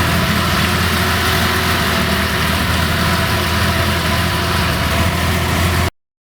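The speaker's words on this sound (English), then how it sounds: "it feels like it's returning to a good baseline idle there" A Datsun 260Z engine idles steadily after tuning, a loud, even mechanical drone with a low throb that holds for about six seconds before stopping abruptly.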